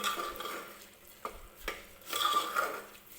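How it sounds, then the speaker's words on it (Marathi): Rice being stirred in a pan while making tomato rice, with a steady scraping and rustling of grains against the metal and a light sizzle, plus a few soft knocks of the spoon. "मी तांदूळ टाकल्यानंतर व्यवस्थित हे तांदूळ मिक्स करून घेते सुरुवातीला."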